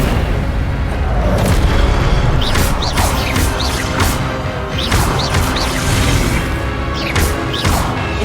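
Repeated Incendio fire spells in Hogwarts Legacy erupt as loud, crashing fiery blasts during a duel, with booms and sharp whooshes following one another steadily across several seconds.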